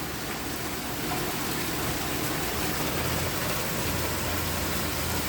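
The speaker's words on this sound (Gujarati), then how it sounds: "ફૂલ વરસાદ આવે છે, બહુ બધો." Heavy rain pours steadily outside, a loud, unbroken wash of noise with no pauses or voices.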